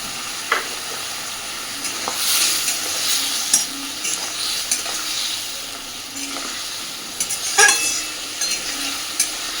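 Spices with cumin powder sizzle and fry in a pan for a fish curry with potato and eggplant, with a spoon scraping and stirring in irregular bursts over a soft, steady frying hiss.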